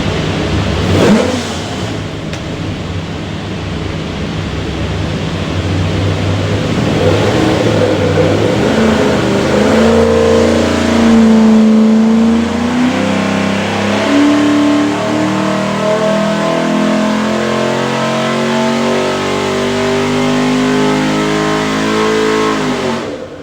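A Ford 427ci small block with Borla eight-stack injection and a hydraulic roller cam roars on a dyno, starting with a rough idle, then climbing through a long, loud sustained rev with rising pitch before easing off.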